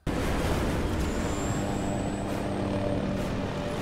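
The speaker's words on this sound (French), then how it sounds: "Je suis dans un hélicoptère, je poursuis Walker." A helicopter in the 2018 film Mission: Impossible - Fallout, its loud, steady rotor and engine roar filling the scene continuously, with a rising whine over the drone.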